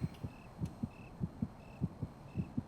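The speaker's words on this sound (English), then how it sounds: "Why is your heart pounding?" A pounding heartbeat in a horror video game, steady low paired thumps repeating roughly twice per second, close and muffled, with a faint periodic beep above.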